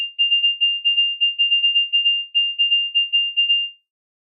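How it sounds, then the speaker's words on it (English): A pure, high sine-wave tone beeps out Morse code, a string of short and long pulses in a clean, uneven rhythm that then stops. "And basically what we hear is Morse code beeps."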